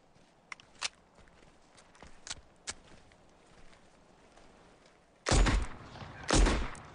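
Shots from a Luger 9 mm automatic pistol, a few faint sharp cracks early on, then two loud, close blasts near the end, each followed by a brief decay.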